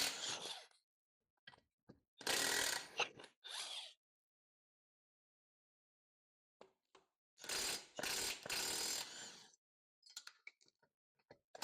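Ratchet wrench clicking in short bursts while loosening the lug nuts on a golf cart's wheels, close and fairly loud, with quiet pauses and a few faint clicks between bursts.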